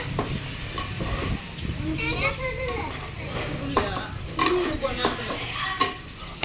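Greens being stirred and sautéed in a home kitchen pan, with scraping spoon strokes and soft sizzling under frequent children's chatter and adult voices nearby.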